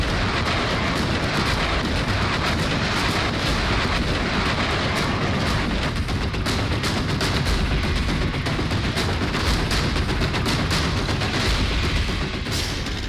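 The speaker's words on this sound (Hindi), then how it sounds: "चेचन्या के लड़ाके भी यूक्रेन पर भीषण बमबारी कर रहे हैं" Artillery fire and heavy bombardment in the war in Ukraine, with Chechen fighters shelling near Kharkiv: a dense, continuous roar of distant blasts and rumbling booms that fills the whole stretch at steady loudness, with no voices.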